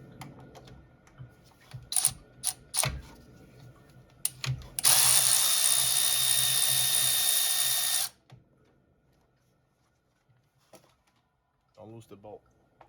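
A power tool with a 10 mm socket spins for a few seconds to back bolts out of a plastic cover on a 2009-2017 Chevy Traverse, preceded by clanks of handling; the area is quiet afterward except for brief talk.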